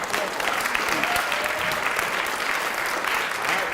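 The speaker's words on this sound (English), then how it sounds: "we should probably give them a round of applause on TV" A school audience at a Lutheran school event claps together in a sustained round of applause, a dense, even patter of many hands continuing throughout, with faint voices beneath it.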